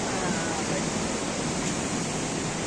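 The Trishuli river rushes nearby in a loud, dense, unbroken roar of flowing water that fills the whole stretch, with no pauses and no clear voices standing out.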